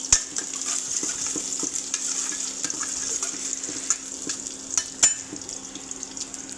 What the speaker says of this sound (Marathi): मोहरी तडतोड लागली की आपल्याला लसण टाकायचं आहे